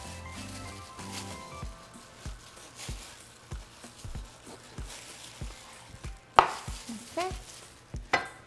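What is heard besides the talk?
knife chopping pork butt into large pieces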